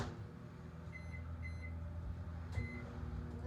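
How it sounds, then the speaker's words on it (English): A microwave oven hums steadily while melting semi-sweet chocolate morsels, with a low continuous drone and a few faint electronic tones partway through. "I'm going to put it into the microwave."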